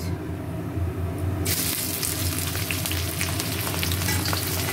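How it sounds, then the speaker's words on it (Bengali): Onions fry in hot oil in a kadai already seasoned with cumin and dried red chilli, a dense, loud, continuous sizzle heard up close that grows brighter partway through, with no voices. "এটা এখন ভাজা ভাজা করবো পেঁয়াজটা।"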